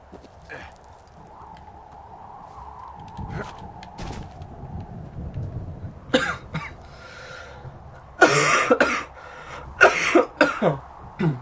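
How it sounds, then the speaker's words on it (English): A few harsh, raspy coughs come in bursts, growing louder toward the end, against a quiet background. "Apologize for my coughing."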